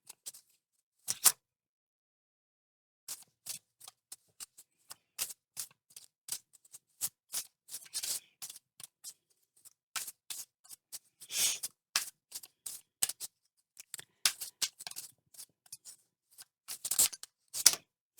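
A deck of cards is shuffled for a reading in short bursts of crisp riffling and snapping separated by silent pauses, close and quiet, with no one speaking.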